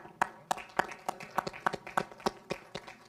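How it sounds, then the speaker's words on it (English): Audience at a school board meeting applauding a student performance: a short run of scattered, distinct claps, fairly sparse and moderately near. "I think we can give them a round of applause for that"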